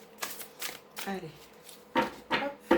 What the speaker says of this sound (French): on va couper le jeu et on va voir ce qui ressort